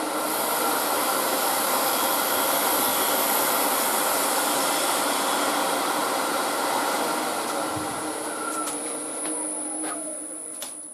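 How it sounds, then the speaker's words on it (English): A bowl gouge takes a finishing cut across spinning wood on a lathe, a loud continuous hissing, rushing scrape with a steady tone that eases slightly toward the end, alongside a few sharp clicks. "we'll just run a bowl gouge down the surface just to get that nice and"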